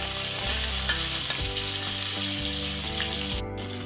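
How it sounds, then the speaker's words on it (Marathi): Chopped onion sizzles in hot oil and ghee with cumin for pav bhaji, a steady loud frying hiss carried over a tonal background of music, with no voice. "आता यामध्ये बारीक चिरलेला कांदा सुद्धा टाकून घेत आहे"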